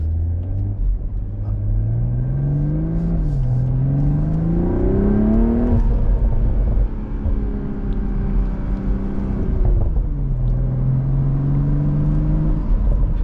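A BMW Z4 M40i convertible with the top down drives through Southern California canyons, its engine droning loudly and steadily, pitch rising through gears and dipping between shifts, with wind rumble throughout.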